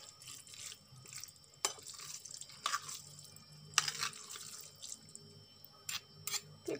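Water drips from drained spaghetti for a tuna pasta dish, a quiet, close patter of scattered drops and small splashes in an otherwise hushed kitchen.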